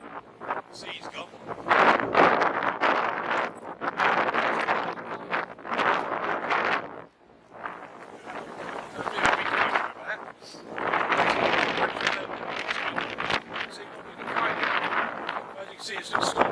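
Strong gusts roar across the beach at Half Moon Bay in stormy conditions, a loud, broadband rush hitting the microphone in repeated surges with a brief lull partway through.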